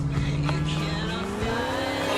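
A Sentinel XS car in GTA IV revs hard with rising engine pitch while its tires squeal under power oversteer. The sound is loud and continuous, with no voices.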